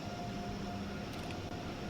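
A high-speed train on the Northeast Corridor between New York and Trenton in Train Sim World 3, running at up to 150 mph, gives a steady, quiet rolling rumble with a faint hum and no talking.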